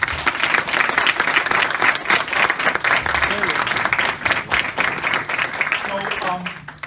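Audience at an Opportunity Nation event in Washington, DC breaking into sustained, dense applause to welcome Senator Cory Booker, a loud continuous crowd clapping with a voice briefly rising near the end.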